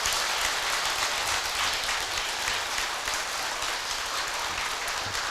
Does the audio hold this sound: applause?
yes